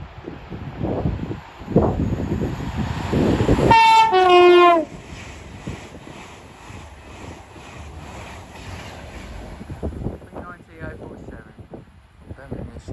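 Avanti West Coast train passing through Watford Junction on the West Coast Main Line: a loud horn blast, then the rushing rumble of the train going by, with talk over the quieter passage.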